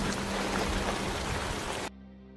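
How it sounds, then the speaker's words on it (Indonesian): Heavy rain pours over a forest in a wartime film scene, a dense, steady hiss that fills the space and then cuts off abruptly into quieter background. "hujan deras mengguyur hutan ini"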